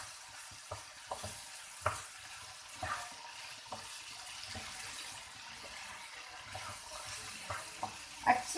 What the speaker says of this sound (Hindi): अच्छी तरह से इसमें सारा मसाला मिक्स कर देना है।